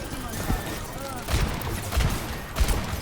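Gunfire in a fast-paced shooter video game: repeated bursts of rapid shots and booming impacts, loud and close, while players talk excitedly over the action.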